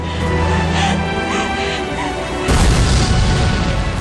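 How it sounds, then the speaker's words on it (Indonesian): A burning ship sinking at sea in a film erupts in a sudden deep boom that swells into a loud, sustained roar after a steady rumbling lead-in. "Dari ledakan yang amat menggelegar tersebut"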